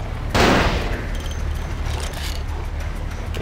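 A single loud sniper rifle shot cracks out in Vampire the Masquerade: Bloodlines, followed by a long fading echo over steady low ambient rumble.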